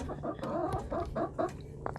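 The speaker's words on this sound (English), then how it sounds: "I might handle the chicken noise" Backyard chickens cluck in short, repeated bursts close to the microphone, several overlapping calls rising and falling over a quiet background hum.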